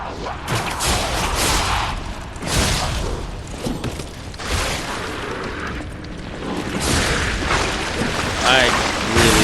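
Heavy booming blasts from enemies in the Lies of P video game erupt as a series of loud, rumbling bursts spaced a couple of seconds apart, layered over dense in-game combat noise.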